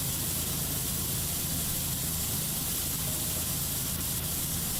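A pressure washer sprays continuously in PowerWash Simulator 2, a loud, unbroken hiss of water jetting at close range with no speech.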